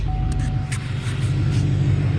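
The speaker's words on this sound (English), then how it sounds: "Gonna get the truck going and then give it a little warm up" A truck engine idles nearby with a steady, low rumbling drone, warming up after starting. It is loud and continuous, with no speech.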